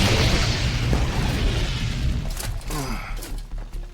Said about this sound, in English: we have an explosive charge ready to detonate